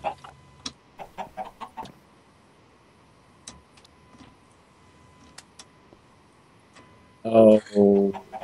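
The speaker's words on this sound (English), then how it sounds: "Oh, the chickens! Oh, they've grown and laid me some eggs." Minecraft chickens cluck in short, separate bursts scattered through the clip, mostly soft with brief ticking clicks between them, before a louder pair of clucking calls near the end.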